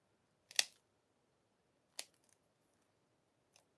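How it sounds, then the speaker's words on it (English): Scissors snipping through beading cord while making a flower keychain: one crisp close cut, then a second sharp snip about a second and a half later and a faint third click, with quiet between. "Once again, cutting this one off."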